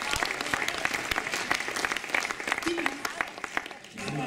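Audience clapping at an organic-store award ceremony at the BioFach trade fair in Nuremberg, a dense stretch of applause with sharp individual claps. The applause runs steady under a brief voice, then eases off at the end.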